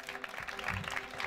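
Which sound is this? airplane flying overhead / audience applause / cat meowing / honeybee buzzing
audience applause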